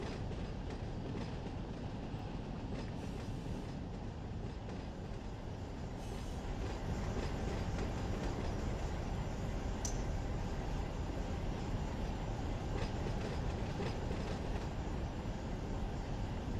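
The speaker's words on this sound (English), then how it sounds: "And the hump train at Barstow should be finishing up here any second." A long freight train rolls over the Barstow hump yard in Run 8 Train Simulator, a steady loud rumble of wheels and cars with faint rhythmic clacking and brief squeals throughout, no voices.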